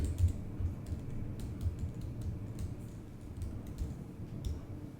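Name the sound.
typing on a computer keyboard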